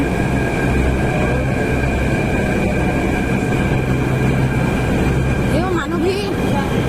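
Delhi metro train running, a loud steady rumble and whine of the carriage with a constant tonal hum throughout, plus a brief rising electric whine near the end; voices murmur faintly beneath.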